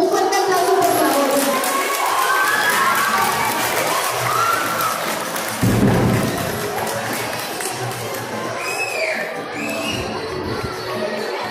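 Crowd applauds and cheers for the second-place team in a Day of the Dead altar contest in Jiménez del Teúl, a dense, loud wash of clapping and voices with shouts and whistles rising throughout.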